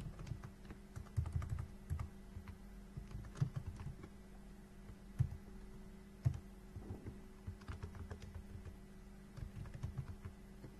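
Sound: typing on a computer keyboard in TallyPrime

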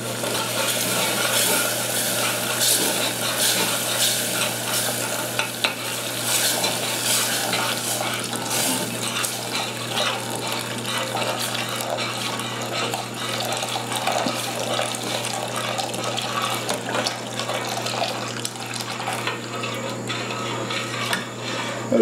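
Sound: liquid poured slowly into cooked flour and stirred, fish pie sauce

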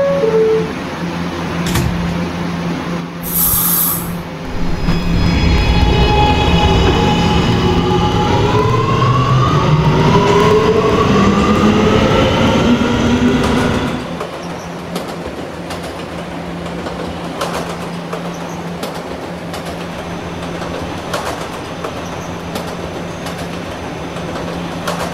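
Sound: subway train running, from Roblox game PTA Subway

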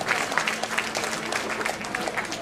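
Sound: audience applause for guests

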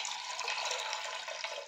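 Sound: water being poured into a pot

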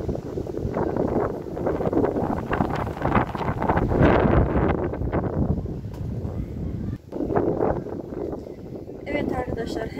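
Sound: wind blowing outdoors

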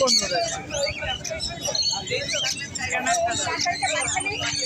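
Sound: birds chirping at a bird market

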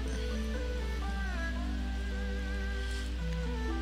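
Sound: rain falling in The Sims 4 video game

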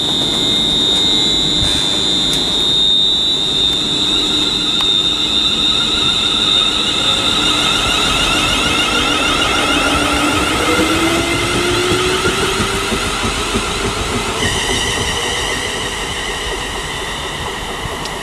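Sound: ScotRail train 38112 departing, North Berwick to Edinburgh service

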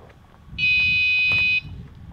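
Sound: yellow alarm of a DolMo radiation dose-rate warning device

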